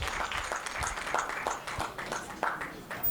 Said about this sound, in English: Please, a big round of applause for 𝐇𝐢𝐬𝐿𝐿 as he makes his speech